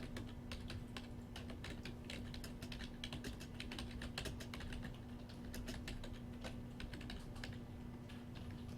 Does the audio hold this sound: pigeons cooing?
no